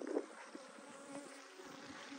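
Honeybees buzz around hives in a mountain apiary, a dense steady hum of many insects close by, faint overall with a few louder passes near the start.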